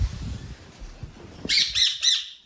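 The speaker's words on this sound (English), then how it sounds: "my faithful followers will get to see my parrot in action" Pet parrot letting out three loud, harsh squawks in quick succession near the microphone, following a stretch of quiet handling noises.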